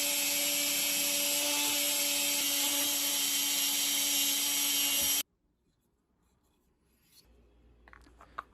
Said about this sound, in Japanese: ブラシで磨きます。